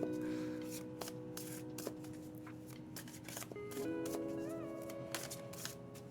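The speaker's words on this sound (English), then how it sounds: "If you like hearing the card shuffling and stuff like that" Tarot cards being shuffled during a reading, a soft continuous riffling and shuffling close by over a steady background hum with a few light taps, no talk.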